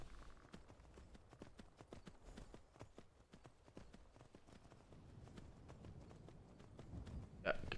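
Steady, rhythmic clip-clop of horse hooves as a rider travels in Skyrim. The hoofbeats are fairly quiet, with low game ambience underneath and a brief chime near the end.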